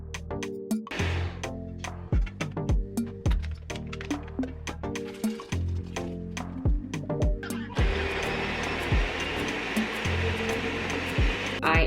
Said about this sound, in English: I'm just gonna be blending this all down into a nice creamy texture